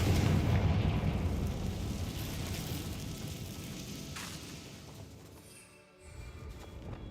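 The Confringo fire spell explodes in Hogwarts Legacy with a heavy, rumbling boom that starts loud and slowly fades over several seconds. A brief lull follows, then a quieter ambient bed returns.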